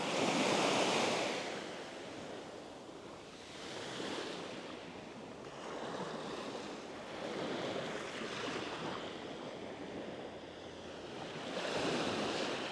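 Gentle waves wash onto a beach on a calm, glassy morning sea at Castell de Ferro, Spain, swelling and receding in slow surges with light wind noise on the microphone and no voices.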